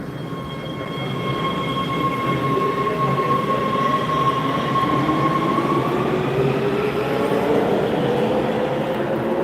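A Los Angeles Metro subway train passes at Vermont/Sunset station with a loud, steady rumble, and a high wheel squeal rises and falls over it throughout.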